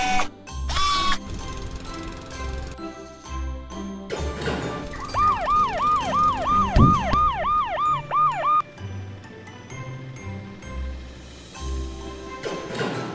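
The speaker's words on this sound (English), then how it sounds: "White color ambulance." An ambulance siren sound effect wails in a rapid, repeating up-and-down pattern for several seconds, surrounded by assorted toy-like clicks, ratchety mechanical sounds and short musical tones.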